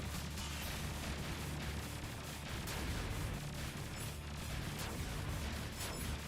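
Bomb blasts and weapon fire in the shoot-'em-up game Truxton Extreme, a rapid, dense barrage of crackling bursts and booms layered over a low rumble, faint and continuous throughout.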